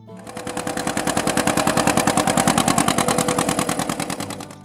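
A John Deere Model B tractor engine runs steadily, its rapid, even two-cylinder popping beat swelling and then easing off over a few seconds, loud and close, with no voices.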